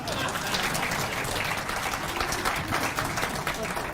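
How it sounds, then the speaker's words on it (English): Audience at a pension scheme annual general meeting in a Nairobi conference hall clapping steadily, a dense, even round of applause that continues throughout. "I always request for a clap."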